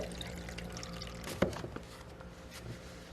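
Cool water is poured for a steel-frame construction crew in a short quiet pour with a brief splashing burst midway, alone and close.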